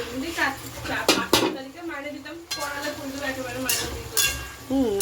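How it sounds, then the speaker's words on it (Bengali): Soybean chunks stir-fried into a curry, with a spatula clattering and scraping against the metal pot in irregular bursts and a faint sizzle beneath, while voices talk over it. "এবার একটু সোয়াবিনটা দিয়ে কষিয়ে নেবো"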